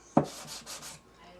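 Hand sanding touch-up on the wood of a Martin D15 acoustic guitar during repair, a sharp contact knock followed by several short, close rubbing strokes in quick succession.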